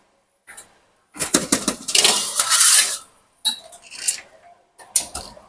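Clattering metal and ceramic knocks as a baking dish of bubbly leek and goat cheese dip slides onto an oven's bottom rack, with a sustained scraping rattle and several sharp separate clanks, close and fairly loud.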